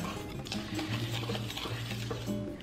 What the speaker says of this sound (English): the dry ingredients here and I'm just gonna mix it around